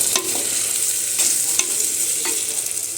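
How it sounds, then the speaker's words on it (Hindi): A spoon stirs salt into food cooking in a clay pot. Soft frying crackle runs throughout, with several distinct scraping strokes and clinks against the pot spaced about a second apart. "अब इसको एक बार मिक्स कर देंगे"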